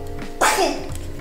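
A single sharp sneeze bursts out abruptly, loud and close, then quickly fades.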